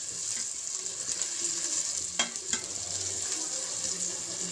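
Tomatoes and onions frying in a pan for a prawn curry give off a steady soft sizzle, with a couple of brief clinks of utensil against the pan partway through.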